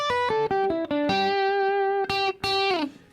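A clean electric guitar plays a short run of bright, sustained notes, close and clear with no distortion, ringing out alone.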